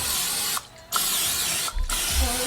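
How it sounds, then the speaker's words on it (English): Two bursts of cooking oil aerosol spray hiss close by, each interrupted by a brief pause and a faint click of the nozzle. "All I need to do is spray some oil on here."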